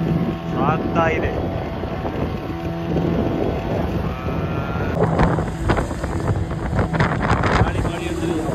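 Strong wind and rain buffet the microphone on a petrol-engined boat at sea, a continuous blustery roar with a motor hum, while people talk over it.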